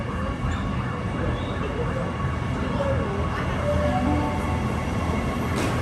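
A NIF D-set passenger train arrives at a station platform, a sustained rumble of wheels and motors close by, with faint brief squeals and a voice talking over it.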